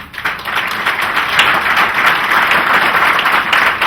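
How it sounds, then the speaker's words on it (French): A large audience applauds steadily at a video box-set dedication event in Yaoundé, Cameroon: dense, continuous clapping held at a loud, even level throughout, with no voices over it. "encore des applaudissements"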